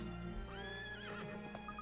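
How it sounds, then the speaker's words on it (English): Horse neighing in the Professor Layton vs Phoenix Wright video game: one spirited whinny rising and wavering over game music, with faint hoof clip-clops. "Oh, this horse certainly is spirited."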